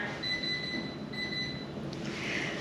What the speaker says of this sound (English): there goes the timer.